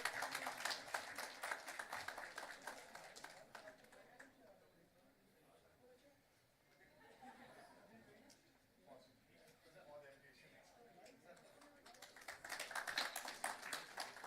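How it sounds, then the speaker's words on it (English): Applause from an audience at a professional convention rises and fades, with talking in the middle before the clapping swells again. "A big round of applause, please."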